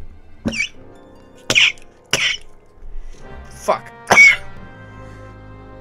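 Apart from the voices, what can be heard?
coughing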